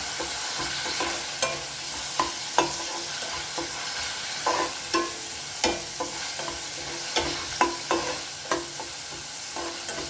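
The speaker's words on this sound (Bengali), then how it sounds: "এবার এটাকে ভালো করে আমি কষিয়ে নেব" Chili powder and coriander masala sautéing in a pan for chicken jahangiri, a steady close sizzle broken by repeated sharp scrapes and clicks of a spoon stirring against the pan, with no talking.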